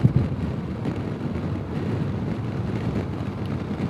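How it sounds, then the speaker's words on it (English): Wind buffets a 2018 Honda Goldwing motorcycle's electrically adjusted windscreen on the road, a loud, continuous low roar and rumble with steady turbulent flutter throughout. "right now I'm getting a little extra wind buffeting"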